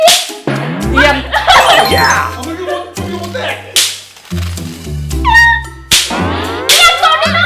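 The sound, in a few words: cat meowing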